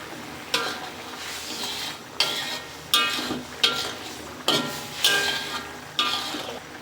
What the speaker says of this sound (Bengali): আলুটা ভালো করে কষিয়ে নেব